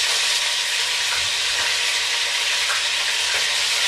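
Food frying in vegetable oil while being stirred, a loud, steady, close sizzle with faint scraping, no voices.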